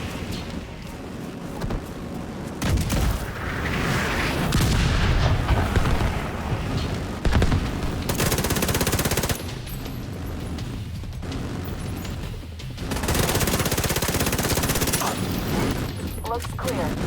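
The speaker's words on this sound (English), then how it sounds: "The autocannon seems to be firing blind." Autocannon and mortar fire from The Division 2 rumble as a sustained barrage of loud, dense blasts and rolling booms, with brief lulls between heavy volleys throughout.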